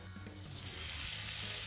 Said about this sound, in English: Just be careful as you drop it into the pan, because obviously the pan's really hot.